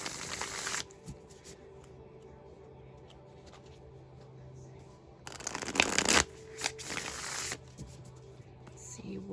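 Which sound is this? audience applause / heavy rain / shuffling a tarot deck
shuffling a tarot deck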